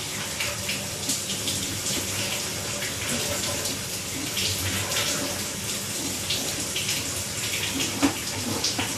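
A bathtub runs, sending a lot of water down a drain line that switches to cast iron, a steady rushing wash heard from inside the pipe, with faint talk over it.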